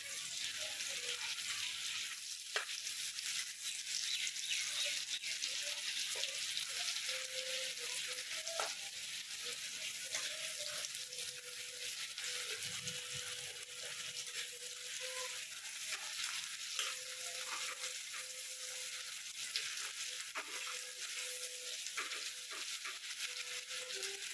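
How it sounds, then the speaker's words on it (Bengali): Spices frying in a pan and being stirred, a continuous crackling sizzle broken by occasional scraping stir strokes, close and fairly quiet, with no one talking. "ভালো করে নেড়ে চেড়ে মশলাটাও দিচ্ছি"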